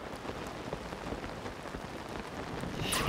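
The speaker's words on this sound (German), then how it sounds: "das Wetter da unten zeigt auch so Gewitter an." Steady rain and a rumbling thunderstorm in the video game The Legend of Zelda: Tears of the Kingdom, a constant soft hiss of rainfall filling the whole stretch and swelling slightly at the end.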